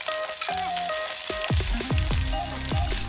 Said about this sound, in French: On va faire revenir notre gingembre quelques minutes, environ 3 à 4 minutes, pour dégager les arômes